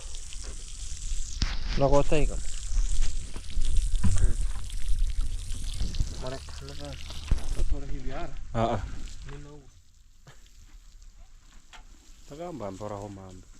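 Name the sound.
water poured from a jerry can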